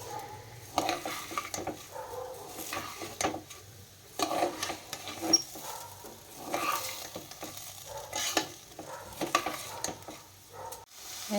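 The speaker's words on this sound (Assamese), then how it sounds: "এইখিনি পিঁয়াজ অকণমান ইয়াতে এনেকৈ ভাজি লৈছোঁ" Chopped onions fry in a pan in a home kitchen, soft sizzling under intermittent stirring and scraping, with occasional clinks of utensils against the pan, fairly quiet and close.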